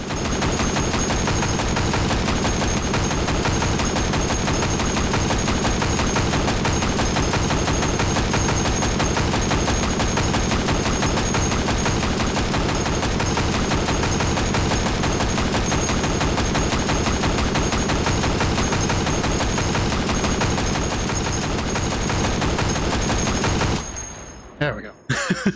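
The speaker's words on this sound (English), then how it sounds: "always love firing this 50 caliber M2 tombstone" Sustained heavy automatic fire from an M2 .50 caliber machine gun in the VR game Hot Dogs, Horseshoes & Hand Grenades, a loud unbroken roar of rapid shots lasting over twenty seconds before cutting off abruptly.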